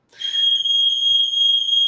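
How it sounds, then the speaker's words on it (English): A fire alarm blares a loud, steady high-pitched electronic tone that starts abruptly and holds continuously without pause. "that's a fire alarm going off"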